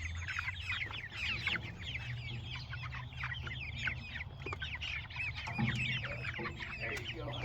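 Chickens cluck and chatter steadily inside a homestead coop, including a rooster, with a dense layer of overlapping bird calls throughout and a low hum underneath.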